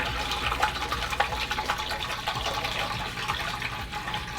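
Liquor glugs from a bottle swirled into a vortex, pouring steadily into a bowl of jungle juice with a continuous, close gushing splash and bubbly gurgling throughout.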